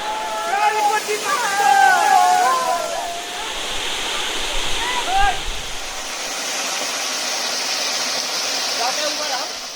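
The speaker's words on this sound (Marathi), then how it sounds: "पोचलो आहोत धबधब्याच्या इथे" A broad, constant rush of falling water at Bhagirath waterfall fills the scene, with voices calling and chattering over it in the first half.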